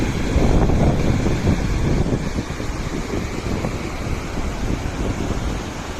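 Water released from Pimpalgaon Joge dam on the Pushpavati river rushes in a broad, steady roar, loud and close, buffeted by wind across the microphone, with no speech.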